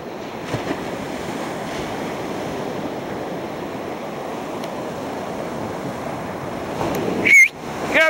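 Ocean surf washes continuously onto a beach on a warm day, steady broadband rush of waves with wind buffeting the microphone, and a brief sharp sound near the end.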